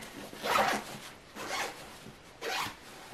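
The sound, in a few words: packing cube zipper being unzipped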